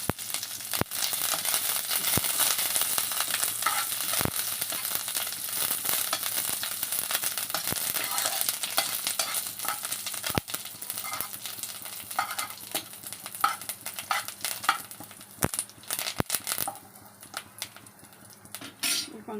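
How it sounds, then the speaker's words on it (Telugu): Curry leaves fry in a hot pan, giving a close, steady sizzle and crackle with occasional sharp clinks of a utensil against the pan. "ఇప్పుడు ముందుగా కరివేపాకు వేసి వేయించేసుకోవాలి."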